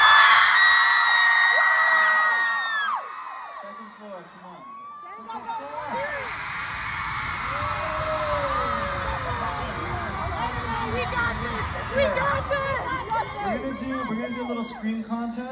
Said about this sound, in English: Scream contest.